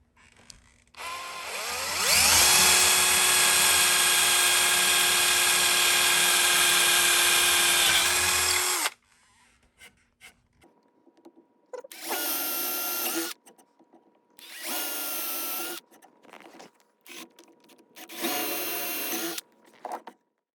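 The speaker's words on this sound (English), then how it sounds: "We're using a 1/4 inch drill, which is the size of the tuning peg head." A loud electric drill with a 1/4 inch bit whirs steadily for several seconds while boring a hole in a ukulele headstock, then stops; a few shorter bursts of drilling follow with pauses between them.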